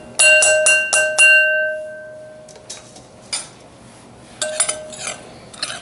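Chole masala spice powder being mixed, with a quick burst of four or five loud metallic clinks and rings from a utensil against a bowl, then quieter scraping and a few more clinks near the end.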